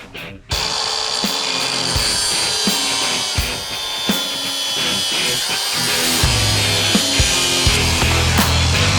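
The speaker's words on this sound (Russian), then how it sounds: "ну а сейчас мы отпилим" A bolt on a Honda CRF 1000 motorcycle is cut off with a saw or power cutting tool, giving a continuous loud rasping grind with repeated strokes and pulses throughout, with no talk over it.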